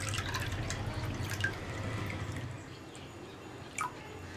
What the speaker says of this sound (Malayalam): ആദ്യം നിറയെ വെള്ളം ഒഴിച്ചു കൊടുക്കുക.